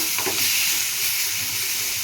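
Ingredients for hotel-style red chutney frying in a pan, a loud continuous hiss and sizzle with light stirring, heard close and alone.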